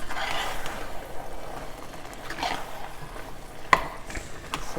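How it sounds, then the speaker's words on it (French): Spinach and mixed vegetables, cooked with smoked fish, sautéing in a pan with a soft, low sizzle while being stirred, with a sharp utensil clink near the end. "Je vais juste faire revenir, mélanger tous les légumes."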